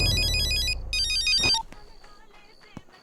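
A mobile phone's melodic ringtone plays in two short bursts and then cuts off, followed by a few faint clicks and taps.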